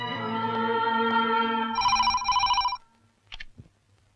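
An old-style telephone ringing indoors in a Hindi action film scene, a sustained bell ring followed by a brighter electronic trill, then a brief click as the receiver is picked up, loud and close.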